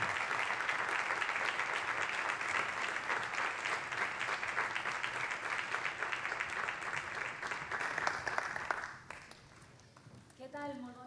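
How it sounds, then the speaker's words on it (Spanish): Audience applause at the inaugural talk of a music festival in Valencia, a sustained dense clapping from a large crowd that runs loud for about nine seconds before thinning out, followed by a brief moment of near-quiet. "Un aplauso."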